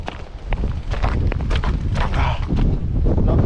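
Strong gusty wind at the High Point Park observation tower in New Jersey buffets the microphone in a constant roar, with scattered knocks and scraping sounds underneath.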